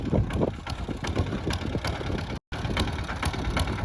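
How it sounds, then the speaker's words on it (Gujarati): A tractor engine idles steadily on a farm during grass sowing, its low mechanical churn and clatter continuous and fairly close, with a very brief dropout partway through and no voices. "માર્કી દાદા નું ટ્રેક્ટર જ હાથમાં આવી ગયું"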